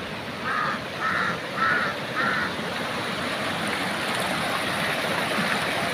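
A mountain stream flows with a steady broadband rush of water, while four quick crow caws ring out early on over the constant flow.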